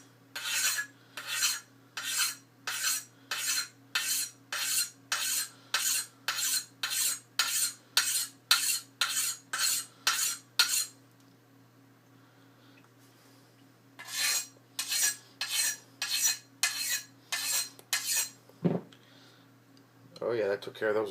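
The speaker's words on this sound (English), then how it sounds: "I gotta make sure I get this all sharpened up. But the, sharpening stone works pretty good." A machete blade is worked with a sharpening stone in steady, rhythmic rasping strokes, a long run of evenly spaced scrapes, a pause, then a second shorter run, close and loud with a steady low hum underneath.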